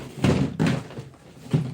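A drawer is pulled and pushed several times, giving short wooden slides and dull thunks in a close, uneven rhythm, with no talk over them.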